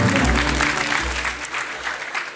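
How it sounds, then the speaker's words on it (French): Audience applause at an awards ceremony, a loud burst of clapping from a crowd that fades gradually over a couple of seconds. "Je pense qu'on peut les applaudir et encore une fois les remercier pour leur travail."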